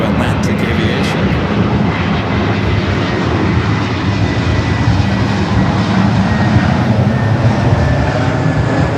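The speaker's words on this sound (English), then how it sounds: "The Trump aircraft is an old Eastern 757 and 200." Trump's old ex-Eastern Boeing 757-200 at LAX produces a loud, continuous jet roar that stays steady and close throughout, with talk faintly present underneath.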